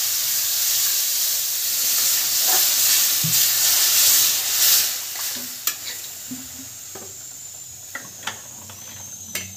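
Curry frying on a gas stove gives a loud steady sizzle and hiss for several seconds, then fades to quieter bubbling with scattered sharp clicks and taps of utensils, close by and without talk.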